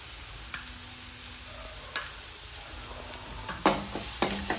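Ginger garlic paste with green chillies fries in a pan for brinjal masala curry, a soft steady sizzle broken by a few sharp clicks and scrapes of stirring near the end.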